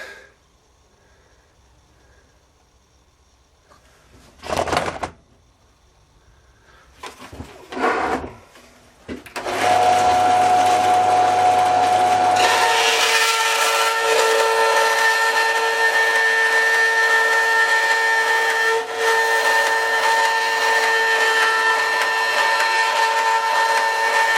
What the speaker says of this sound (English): My bandsaw's not the best in the world